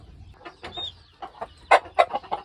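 A young muff gamefowl pullet clucks in a run of short, close calls, growing louder and more insistent toward the end.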